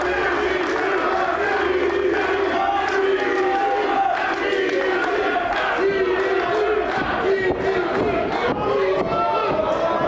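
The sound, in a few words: wrestling fans cheering at London Music Hall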